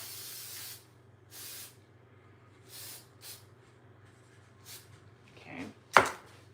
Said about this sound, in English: I spray it into a garbage can, you guys.